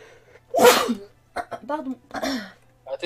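A single loud, close sneeze bursts out, followed by people talking nearby.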